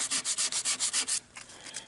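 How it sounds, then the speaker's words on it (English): An old sanding disc rubs along the grain of wood molding on a mini chest, making about nine quick, even rasping strokes in a steady rhythm, then a softer, irregular scrub, all close up with no voices. "If you use an old sanding disc just like this and do a little bit of sanding, so I'm sanding with the direction of the grain"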